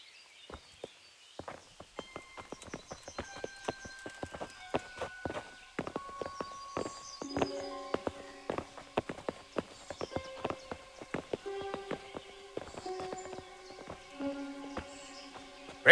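Horses' hooves clip-clop steadily on the ground in the medieval game Kingdom Come: Deliverance, with a series of close, distinct hoofbeats over a quiet musical backdrop.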